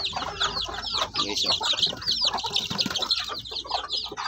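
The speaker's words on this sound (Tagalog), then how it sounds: "pure native natin na mga sisiyo, which is 2 weeks old na" Two-week-old Shamo Aseel native chicks peep and cheep in a dense, continuous high chorus close by, with brief man's speech at one point.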